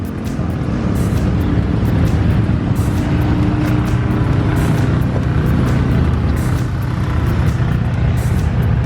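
A 2015 Lamborghini Huracan roars loudly and steadily under hard acceleration at a drag strip, its engine a dense, constant blare close by with no pauses.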